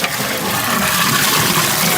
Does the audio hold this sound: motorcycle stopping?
no